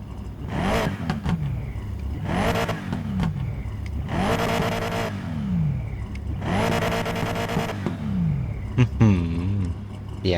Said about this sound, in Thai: มา มาเร่งเครื่องกัน